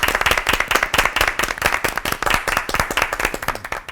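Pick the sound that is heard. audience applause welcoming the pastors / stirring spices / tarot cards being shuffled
audience applause welcoming the pastors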